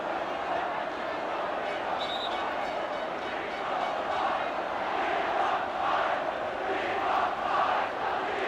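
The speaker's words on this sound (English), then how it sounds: "Crowd, not yet satisfied, are shouting that we want 5." FA Cup quarter-final football crowd chanting for a fifth goal, a broad, distant roar of massed voices rising and falling in rhythmic swells across the stadium, steady throughout with no clear single voice.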